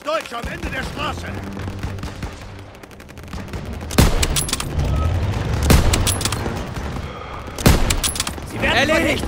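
Gunfire in the Call of Duty WWII video game's street battle: a dense fusillade of rifle and machine-gun shots with several loud sharp cracks, heavy and close, mixed with shouting voices.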